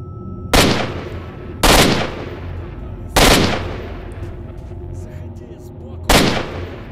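Four sharp, loud gunshots from a firearm in the video game S.T.A.L.K.E.R.: Shadow of Chernobyl, spaced roughly a second or more apart, each ringing out with a brief decaying tail over a low background hum.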